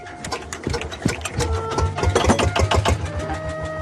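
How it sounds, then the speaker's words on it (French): An old-fashioned hand-cranked engine on an unusual train in Brazil runs with a fast, busy mechanical chatter of rapid clattering beats over a low rumble, close and steady throughout. "C'est un moteur à l'ancienne, qui marche avec une manivelle."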